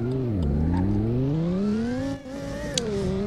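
A fast car in the Roblox game accelerates and revs steadily, its engine pitch dipping, then climbing and wavering as it drives and drifts, loud and close throughout with no talk.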